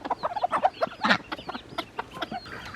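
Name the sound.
hens clucking to call chicks to food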